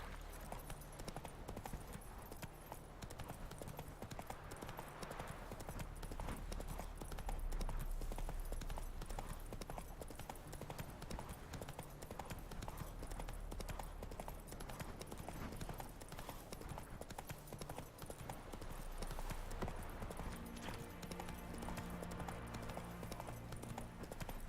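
Roach galloping in The Witcher 3, a fast continuous drumming of hooves over a dense, loud game soundscape with music, lasting throughout.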